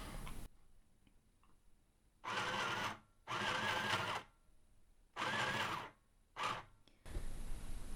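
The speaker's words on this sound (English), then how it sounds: "The mini sewing machine did start speeding up its sewing." A mini sewing machine running at high speed, its motor whirring in four loud, steady bursts of about a second each, separated by short quiet pauses.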